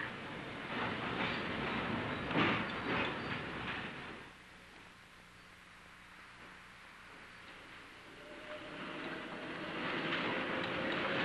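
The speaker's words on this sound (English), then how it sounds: "A northbound car passes on the other track and heads for the old Mission Road crossing" A San Mateo 40 Line streetcar rolls past on the other track, a rumbling clatter that fades into a quieter stretch before another low rumble builds again.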